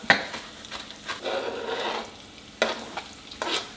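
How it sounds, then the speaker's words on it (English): Onion and green chili frying in a pan, with a soft continuous sizzle broken by several sharp scrapes and stirs of a utensil against the pan, close by and with no talking. "Just get that cooking, smelting down with the onion."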